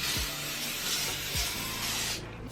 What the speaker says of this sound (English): So I'm taking this spray thing.